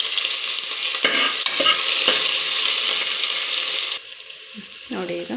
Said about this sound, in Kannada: ಫ್ರೈ ಮಾಡ್ಕೊತೀನಿ